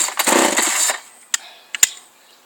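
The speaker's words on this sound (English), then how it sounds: "All these different chainsaws have all these different ways of making them work." A chainsaw is pull-started and sputters with a loud, rough burst of engine noise for about a second. It dies back, followed by a few sharp mechanical clicks and pulls.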